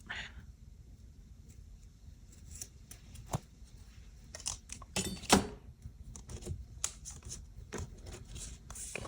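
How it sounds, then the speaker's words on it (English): Scissors snipping through a sheet during layout design work, a few short crisp cuts clustered around the middle, close and moderately quiet over faint background rustling. "So I'll just take my scissors and cut that."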